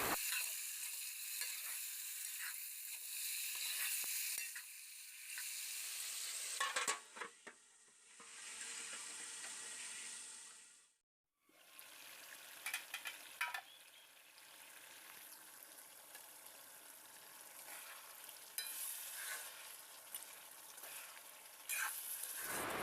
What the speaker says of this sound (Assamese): এতিয়া মাংসখিনি দি অলপ লৰাই ঢাকি দিছোঁ